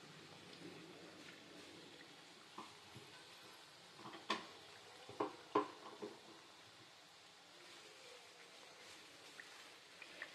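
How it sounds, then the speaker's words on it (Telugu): Rice flour and sesame crackers frying in hot oil until golden, a faint steady sizzle broken by a few sharper pops and crackles near the middle. "గోల్డెన్ కలర్ వచ్చేదాకా ఫ్రై చేసుకోవాలండి"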